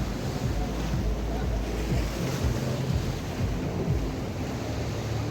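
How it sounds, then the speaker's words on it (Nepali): Rough sea surf crashing on the shore in Cyprus, a constant loud broadband roar of breaking waves with steady wind buffeting the microphone and no pauses. "समुद्रले छाला हान्दा चाहिँ भयङ्कर बिकज भयङ्करै भइरहेको"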